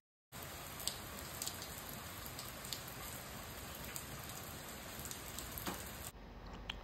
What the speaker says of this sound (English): it would start raining